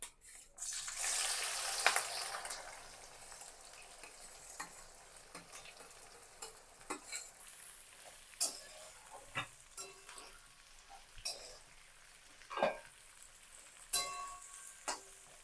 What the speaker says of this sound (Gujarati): તેલ આપણું ગરમ થઈ ગયું છે, એની અંદર નાખશું ડુંગળી.